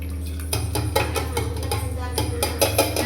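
Soaked moong dal for sweet pongal is tipped into water in a pot, giving a series of sharp clinks and knocks of metal utensils with some watery sloshing, close and moderately loud.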